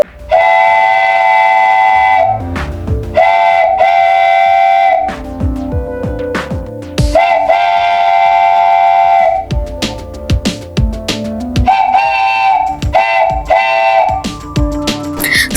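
A miniature model train runs at the Chennai Rail Museum of the Integral Coach Factory, with repeated steady whistle tones in several bursts over rumbling, clattering running noise, loud and close, with no talking.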